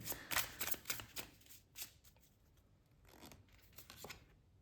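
Tarot cards being shuffled by hand with some slipping loose and dropping, quick papery riffles and slaps in bursts near the start, then softer rubbing and a few final flicks, close and moderately loud.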